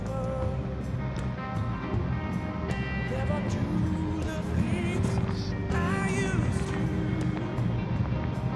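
A 1957 Ford Fairlane 500 Convertible engine idles with a steady low rumble throughout, while a voice talks over the running car.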